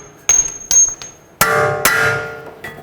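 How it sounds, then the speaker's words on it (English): Metal-on-metal hammer blows driving a stuck bolt through the steering knuckle of a 2007-2010 Chrysler Sebring during ball joint replacement: four loud, sharp ringing strikes, two light and two heavier, with a fainter tap at the end. "you can put the nut flush with the bolt and then hammer it through"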